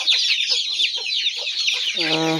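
Broiler chicks cheep continuously in a dense, high-pitched chorus on a poultry farm, with a single louder cluck or call breaking in near the end.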